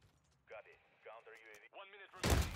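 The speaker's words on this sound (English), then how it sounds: "Damn. I got shotgunned." A shotgun blast in a video game lands as a single loud, abrupt burst at the very end, just after a voice talking.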